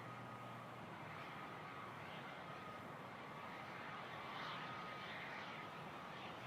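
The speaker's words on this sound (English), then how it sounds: "Challenger just touching down" A Challenger business jet touches down on runway 15 right at Toronto Pearson, heard as a steady, fairly distant engine roar with a broadband wash of noise and no voices.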